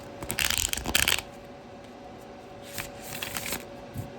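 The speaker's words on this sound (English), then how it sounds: "I think I shuffled it already, but I'm going to do it again." A tarot card deck riffles and shuffles in two quick bursts, close and crisp, separated by a quiet pause with faint room hum.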